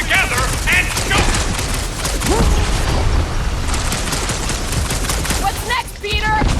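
Rapid gunfire bursts and booming blasts during combat in Marvel's Guardians of the Galaxy video game, loud and dense, mixed with character voices shouting over the fight.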